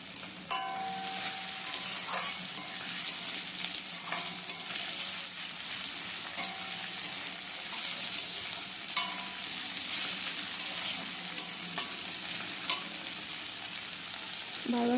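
Onion, tomato and two chillies frying in a wok, a continuous sizzle punctuated by occasional stirring clinks and scrapes, close and steady with no talking.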